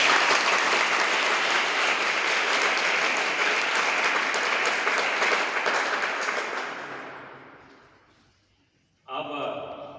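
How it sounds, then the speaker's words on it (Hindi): A crowd applauds loudly at a coaching institute gathering in Ayodhya, with steady dense clapping that fades out toward the end before a brief burst of sound returns. "आप लोगों के सम्मान में एक बार जोरदार ताली बजा दीजिए।"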